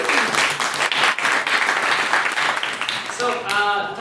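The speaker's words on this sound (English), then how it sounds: "Round of applause for the end of questions there." A debate audience breaks into sustained applause, dense and fairly close, lasting the full stretch. A voice starts speaking as the clapping fades near the end.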